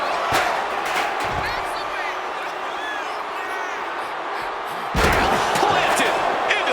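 A wrestler is slammed into the steel ring steps at a wrestling event, a sharp metallic slam followed by a second heavy impact and a crowd roar, over constant arena crowd noise and commentary.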